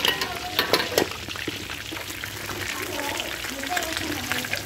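Carp frying in a hot pan for a sour-pickle carp dish, a steady broadband crackle and sizzle close by with scattered pops, while a person talks over it.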